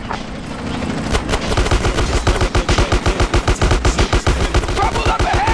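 Gunfire in GTA San Andreas: a loud, close burst of rapid automatic shots in a fast, even rhythm runs for several seconds over a dense background of game noise.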